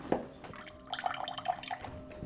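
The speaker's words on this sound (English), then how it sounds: "This is our cold water pressure in the kitchen." A weak trickle of water from a kitchen cold tap with low pressure, irregular drips and splashes landing in a sink, close and fairly quiet.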